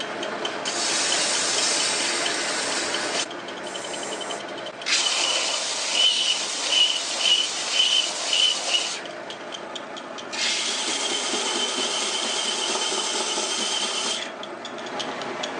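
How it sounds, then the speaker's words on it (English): A homemade belt sander runs with a loud, steady abrasive rasp in three long bursts separated by brief dips, its grinding texture fluctuating slightly as work is pressed against the belt. "I am pretty confident now that this belt sander will actually work"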